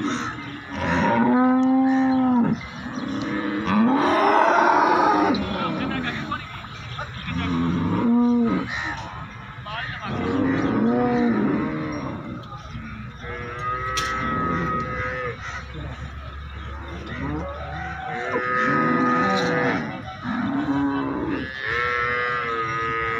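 Buffaloes and cattle at an Arifwala livestock market moo repeatedly, deep drawn-out calls rising one after another, some near and loud, over a steady crowd murmur.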